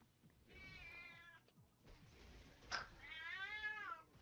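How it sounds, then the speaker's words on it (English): A cat meows repeatedly in the background, with drawn-out, wavering calls in two bursts, faint and somewhat distant, alongside a sharp click midway. "Got a damn cat in the background."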